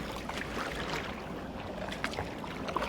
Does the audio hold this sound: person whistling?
no